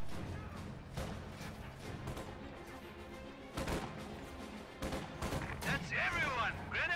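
Rapid bursts of gunfire and explosions hit a field gun in a World War strategy game, with dense crackling volleys and heavy impacts over a sustained battle din while a commentator talks over it.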